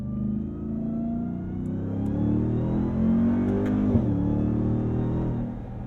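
A 2022 RAM TRX pickup's engine revs hard and steady up close, then a brief sharp pop marks an upshift before the roar carries on.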